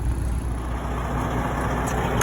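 A truck with its trailer backed up to a loading dock gives a steady, close, heavy engine rumble with no breaks.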